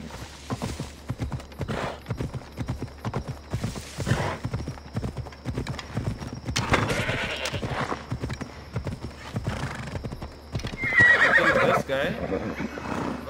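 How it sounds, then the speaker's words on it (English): In Assassin's Creed Odyssey a summoned horse gallops closer with steady rhythmic hoofbeats, then lets out a loud whinny near the end, while a voice talks now and then over the action. "Let me call my horse."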